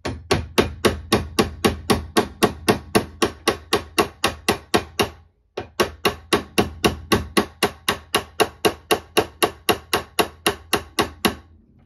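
Hammer tapping a front sight into the dovetail on a Kimber K6s revolver, a close series of crisp, evenly spaced metallic taps, about three per second, with one short pause midway.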